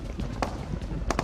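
In a shooter video game, an enemy's footsteps come from a nearby house as a few quick, muffled thuds over a short moment, moderately near amid game background noise.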